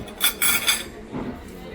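Two plates are set down and handled beside a large pizza at Zurich airport, giving a short, close clatter of ceramic knocks and clinks, with faint voices in the background.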